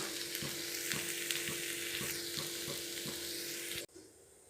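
A potato fry tempering of fenugreek leaves, onion and coriander sizzles steadily in hot oil, with regular scraping stirs, then cuts off abruptly near the end.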